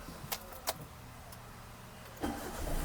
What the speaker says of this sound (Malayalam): നമ്മുടെ വാഹനം സ്റ്റാർട്ട് ചെയ്തു